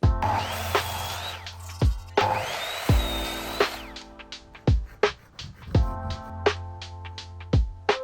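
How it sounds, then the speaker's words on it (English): A power tool cuts a 2x4 wooden board to length in two loud whining bursts, followed by a series of sharp knocks and thuds as the wood is handled, close and with no talk. "First we need to get a 2x4, cut it to length, and then we can cut the angle in it."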